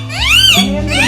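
A kitten lets out a single drawn-out meow, close and fairly loud, with its pitch rising and then falling over about a second.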